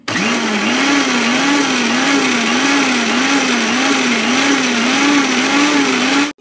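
A kitchen blender runs loudly on garlic and lemon juice in one continuous burst of about six seconds, its motor whirring with a slight regular wobble in pitch before cutting off abruptly.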